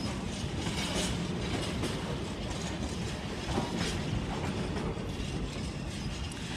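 Container wagons of a freight train pass close by at Peterborough station, a dense steady roar of wheels with clanking, rattling metal and repeated clickety-clack over the rails.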